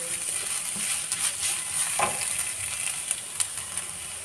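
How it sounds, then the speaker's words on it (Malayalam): Ground coconut paste stirred in a hot pan for a jackfruit-leaf thoran, a low steady sizzle with a few spoon scrapes and light metallic taps against the pan. "നമ്മുടെ തേങ്ങ അരച്ച് നമ്മൾ ഇട്ട് കൊടുത്ത് ഇനി നമുക്കതെല്ലാം കൂടെ ഒന്ന് ഇളക്കി കൊടുക്കാം."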